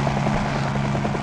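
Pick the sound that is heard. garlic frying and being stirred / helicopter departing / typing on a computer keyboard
helicopter departing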